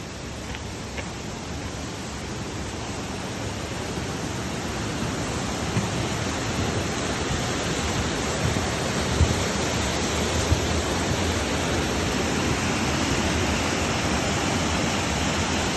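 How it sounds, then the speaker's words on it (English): A powerful waterfall on the West Highland Way roars continuously, a dense, loud rush of water close by that stays steady throughout. "Powerful water, right?"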